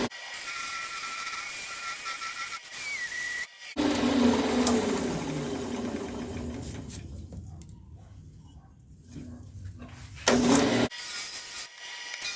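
Maple and purpleheart segmented woodturning being sanded flat on a lathe: a steady rushing abrasive hiss over the spinning piece, with brief pauses and a louder burst near the end.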